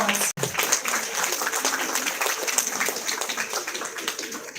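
A college ceremony audience in Indore breaks into sustained applause, a dense wash of many hands clapping at steady loudness after a brief cut at the start, gradually easing slightly toward the end.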